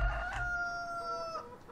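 A rooster in the farming video game Farming Simulator 17 gives a single drawn-out crow with clear, tonal harmonics, moderately close and heard alone.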